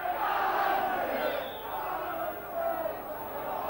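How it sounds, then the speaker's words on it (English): Rugby league crowd at a Leeds versus Hunslet Yorkshire Cup match, a broad roar of cheering that swells and dips, with a commentator talking over it. "with the cheers that are coming from the crowd"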